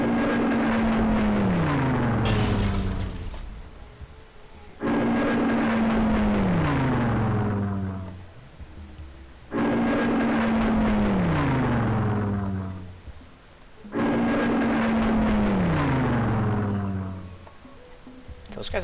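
Aircraft attack in Civilization III during a World War 2 siege of Stalingrad: four loud, repeated passes, each a roaring engine drone that dives downward in pitch, separated by short gaps, with no talk over them.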